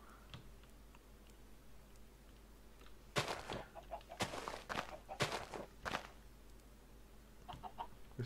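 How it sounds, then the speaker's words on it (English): Chickens clucking in the Minecraft game world, several short bursts in a cluster with footstep-like taps around them, fairly close over quiet ambient background. "There's chickens everywhere."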